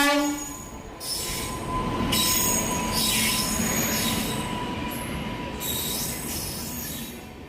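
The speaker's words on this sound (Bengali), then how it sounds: "কিছুক্ষণ অপেক্ষা করার পরই এসে পড়ল আমাদের ট্রেন।" A train pulls into Rampurhat station, its wheels squealing loudly and steadily against the rails throughout, with brake screech and rumbling carriages alongside a brief horn-like tone, no voices present.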